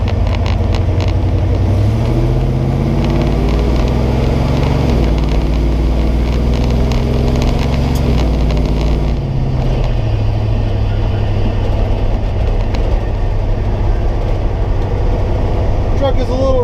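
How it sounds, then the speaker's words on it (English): A 1970 Chevrolet C10 truck driving with a loud exhaust, its engine droning and climbing through gears alongside rattles and road noise, steady and close the whole way. "Truck is a little rattly, a little noisy. Exhaust is good and loud."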